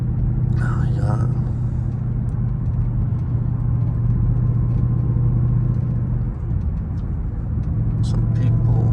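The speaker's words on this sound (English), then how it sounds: "you can just listen to that supercharger whine all morning" Dodge Hellcat with a supercharger whine, driving in early-morning traffic, gives a steady loud engine rumble and a constant drone throughout, with faint voices briefly over it.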